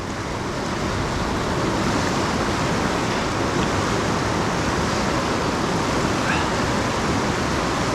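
Dartmouth Rapids on the river at Ohiopyle in February, a dense steady roar of rushing whitewater, loud and unbroken throughout with no other sounds standing out.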